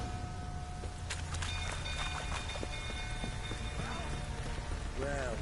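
Horses in a stable shift and clop their hooves in scattered irregular knocks, with occasional whinny-like calls and thin tonal whines above a steady rumbling background.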